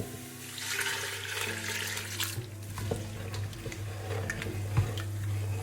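Vegetable broth, about two liters, poured into a cooking pot in a home kitchen, making a steady splashing, running-water rush that continues for several seconds and fades slightly toward the end.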